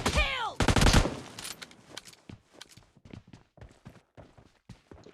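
Kar98 bolt-action rifle fire in PUBG Mobile Lite team deathmatch: one loud, dense blast near the start, followed by a quick run of lighter, evenly spaced clicks and thuds that stay up close.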